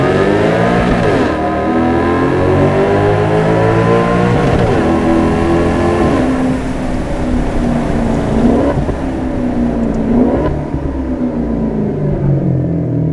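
A Maserati GranTurismo sports car accelerates hard in first gear, its engine climbing in pitch through several loud rising pulls with brief dips between, roaring close and continuous.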